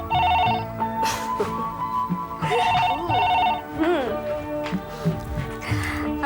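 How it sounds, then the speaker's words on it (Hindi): Telephone bell ringing in a domestic drama scene, repeated trilling bursts with gaps, moderately loud and close, overlapping women's conversation and background music. "हेलो मैम, निखिल बाबू का फोन है दिल्ली से।"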